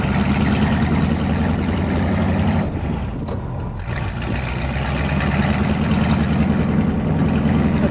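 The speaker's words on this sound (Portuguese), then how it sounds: "a cabine é aberta e o motor faz muito barulho" A Ford V8 hot rod with an open cab roars steadily and loudly while driving, its deep engine drone continuous throughout, easing briefly for a moment near the middle before returning to full volume.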